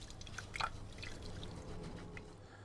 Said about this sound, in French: on va rajouter tout simplement de l'eau à hauteur